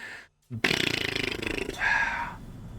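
A loud, rasping, buzzy noise in Captain of Industry, sustained for about two seconds after a short silence, with a wavering second tone near the end.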